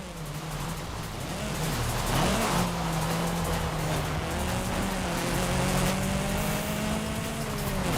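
A Mini car with big rims driving on a dirt track in rainy weather in Forza Horizon 5, a steady loud engine drone rising and falling with revs and gear changes, accompanied by continuous tire and road noise.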